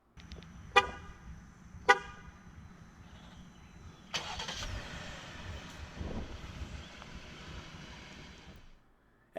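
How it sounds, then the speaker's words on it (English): Two short horn-like chirps from a 2018 Jeep Grand Cherokee Sterling Edition 4X4 as the key fob remote start is triggered, then the engine catches and settles into a steady, moderate idle before cutting off near the end. "just double press the remote start button on the key fob"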